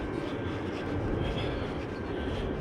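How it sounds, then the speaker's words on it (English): Airplanes fly near the airport, heard as a steady, broad roar of aircraft engine noise with no distinct start or end, heavy in the low end and fairly loud throughout. "and hear the planes as well. So we're near the airport."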